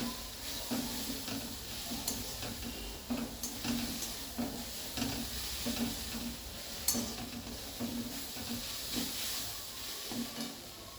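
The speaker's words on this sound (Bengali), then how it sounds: "আবার আমি এটাকে খুব ভালো করে নেড়ে চেড়ে দিচ্ছি।" Shrimp curry masala with chilli powder hisses and sizzles in a pan under continuous close stirring, the spoon's rhythmic scraping and occasional taps sounding over the steady frying.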